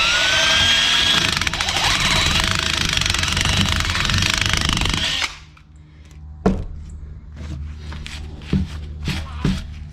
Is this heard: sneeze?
no